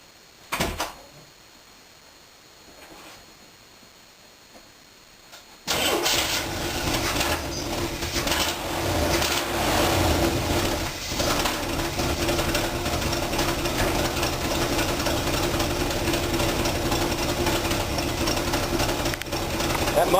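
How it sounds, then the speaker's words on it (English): A 350 Chevy V8 with a leaking exhaust gasket starts after a few seconds of quiet and settles into a steady idle with a rough, muffled, puffing exhaust note. "it's starting to make that little muffly sound that old Chevy motors start making"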